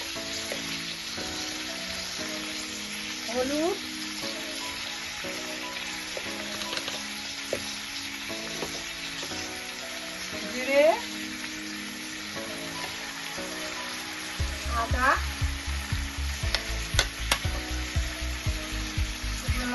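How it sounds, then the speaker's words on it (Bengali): Silver carp fish curry with gandal leaves, salt and chilli sizzles steadily in a pan while a spatula stirs it in repeated scraping strokes, with background music running underneath throughout. "এবার এটাকে একটু ভালো করে নাড়াচাড়া করবো"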